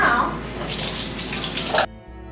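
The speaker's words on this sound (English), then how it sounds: "Go rinse your hands in the sink." Water runs from a kitchen sink tap as hands are rinsed, a close, steady splashing rush that stops abruptly near the end, leaving a quiet hum.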